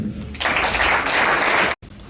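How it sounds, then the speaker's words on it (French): Crowd applause at a youth football academy contract signing ceremony, a dense burst of clapping that swells, holds steadily for over a second, then cuts off abruptly before faint room noise resumes. "Merci beaucoup, on applaudit."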